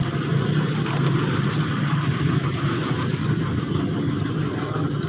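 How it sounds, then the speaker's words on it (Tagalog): Heavy road traffic on a congested street, a dense continuous rumble of car and motorcycle engines, steady and close with no clear pauses. "Traffic na traffic, ayan, habang pinapaharang ko si Masing Vlog TV."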